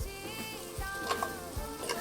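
Tempering spices sizzling in a hot pan over a wood fire for a rustic country-chicken curry, a steady close frying hiss with faint ticks and stirring knocks and no talk.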